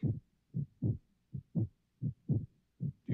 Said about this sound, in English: It's the sound of a heartbeat.